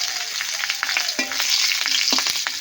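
Whole spices, dried red chillies, bay leaves and slit green chillies spit and crackle in hot oil for a Bengali tempering while a spoon stirs them, with several sharp scraping clinks over the steady sizzle.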